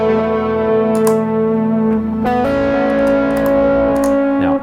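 A Red Panda Tensor pedal set to a big reverb preset with delay brought up turns sustained guitar tones into a spacey wash. Notes ring and overlap as pitches change, with echoing repeats and short percussive ticks, loud and continuous with no talk.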